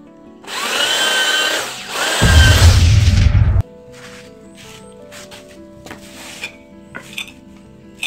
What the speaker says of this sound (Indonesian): jadi tinggal saya bor saja